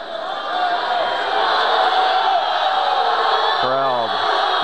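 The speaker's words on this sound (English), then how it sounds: "Crowd moaning over the replay there being shown inside Pete Matthews Coliseum." A college basketball crowd at Pete Mathews Coliseum groans and murmurs over a replay, a loud continuous roar of many voices, with one rising cry or shout standing out near the end.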